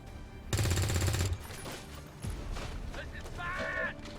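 Gunfire from a squad firing in the video game XCOM 2, with a loud burst of rapid shots, then more clattering impacts and effects while someone talks over it.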